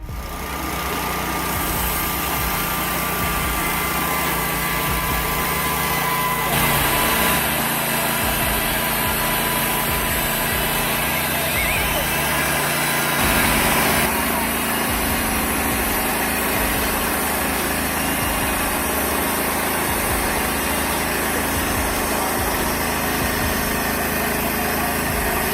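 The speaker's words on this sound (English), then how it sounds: "The TimberKing 1600 is a robust sawmill capable of cutting logs up to 36" The engine of a TimberKing 1600 sawmill runs steadily and loudly at close range, a constant high-pitched drone with slight shifts in tone and no talk over it.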